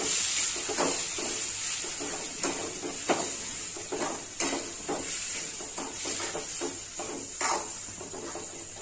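Mashed eggplant bharit with chopped coriander is mixed in a pan over a soft sizzle of oil, with repeated close spatula scrapes and taps in an irregular rhythm, no voices.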